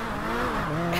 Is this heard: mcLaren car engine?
yes